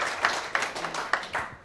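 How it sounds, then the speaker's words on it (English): Scattered, fairly faint applause from a seated audience at a talk, individual claps popping out in an uneven rhythm before it fades off. "we must give him applause"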